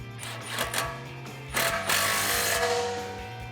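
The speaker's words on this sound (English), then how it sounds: "take your power tool or your ratchet," A power tool whirs in short bursts against a steady low hum, the longer run near the end sounding like exhaust bolts being driven tight on a 2011-2012 Mustang GT axle-back exhaust.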